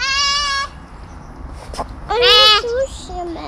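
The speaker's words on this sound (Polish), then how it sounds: "Raz, dwa, trzy. Trzy owce." Sheep bleat in short wavering cries, a few calls spaced apart, near and clear over faint background noise.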